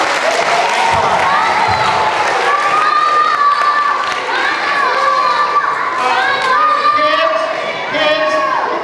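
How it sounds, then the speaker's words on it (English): Audience at a children's book-time event applauding and cheering kids, continuous clapping mixed with high children's shouts and chatter throughout. "Give them a big round of applause."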